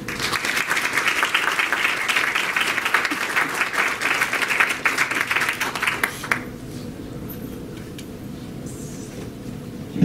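An audience claps in sustained, loud applause to welcome landscape sculptor Marc Peter Keane, a dense wash of hand claps that runs steadily for about six seconds before abruptly dropping to quiet room tone.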